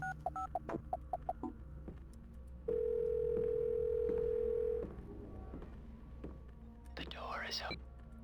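Phone number dialed in Silent Hill Shattered Memories: a quick run of short keypad beeps, then a long steady tone for about two seconds, with quiet game ambience and a voice talking over parts.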